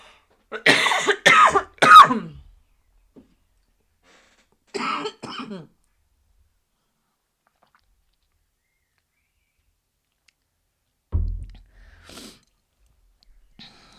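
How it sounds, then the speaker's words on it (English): A person with a bad cough from air conditioning coughs in a quiet room: a cluster of harsh, close coughs at the start, another pair a few seconds later, then a lower throaty cough after a long silence. "I'm sorry, I have a bad cough."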